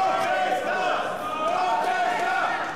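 Wrestling crowd at an arena yelling and chanting a wrestler's name, a dense sustained roar of many voices with rising shouts, steady and loud throughout.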